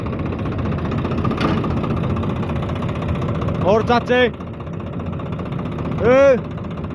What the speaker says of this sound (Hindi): लो जी, इस ट्रैक्टर की बात करो